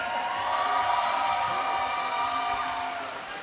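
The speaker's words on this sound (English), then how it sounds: "I want to hear some cheering for the guys out there." A crowd cheers at a men's roller derby bout between Wheels of Justice and Bridgetown Menace, a loud, continuous roar of voices from the stands that fades slightly at the end.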